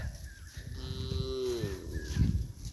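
A single cow moos in a village field near a river with hills beyond, a clear mid-distance call with wind and low rumble around it and no talk.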